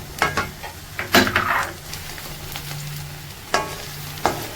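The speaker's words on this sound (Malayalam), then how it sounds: "ആദ്യം നമ്മൾ ഇതിലിട്ട് കൊടുക്കേണ്ടത് വെളുത്തുള്ളിയാണ്" Chopped garlic pieces, ten to fifteen of them, frying in hot oil in a pan, with a steady sizzle and a few stirring scrapes and clinks, loud and close with no voices.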